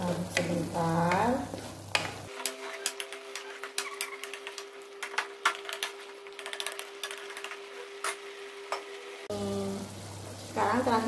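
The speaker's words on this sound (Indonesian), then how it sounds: "Kita aduk sebentar." Capcay with carrots being stirred in a pan, spatula scrapes and clacks repeating in an uneven rhythm over a steady hot sizzle, close and fairly loud, with a few moments of talk at the start and end.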